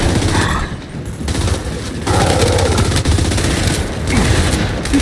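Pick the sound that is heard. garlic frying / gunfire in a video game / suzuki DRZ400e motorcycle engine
gunfire in a video game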